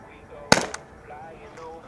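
An air pistol fires once, a sharp, close crack with a brief ringing tail, set against quiet background noise.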